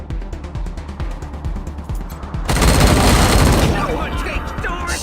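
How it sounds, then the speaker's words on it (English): Rapid gunfire from a character unloading many bullets in the Wasteland 3 video game, a dense continuous burst of shots erupting loud after a stretch of quieter rhythmic game sounds. "he shoots a lot of bullets"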